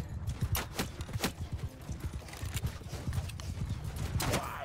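Hooves of mounted horse archers galloping in Mount & Blade 2 Bannerlord, a rapid, steady clip-clop rhythm close by with a brief whinny, running continuously throughout.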